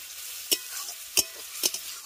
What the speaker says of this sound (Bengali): সরষেটা দিয়ে 30 সেকেন্ড মতো এটাকে একটু হালকা করে নেড়ে দেবো।